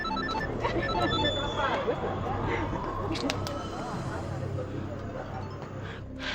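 A phone SMS notification tone chimes over constant crowd chatter and background noise, with people talking nearby.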